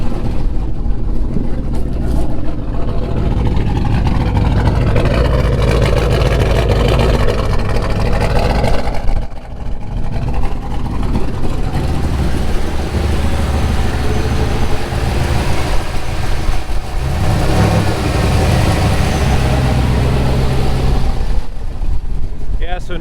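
A car engine running on a FiTech standalone fuel injection system, which replaced a stock ECU that kept frying, idles at around 800 rpm with a loud, steady, low rumble, while people talk nearby over it.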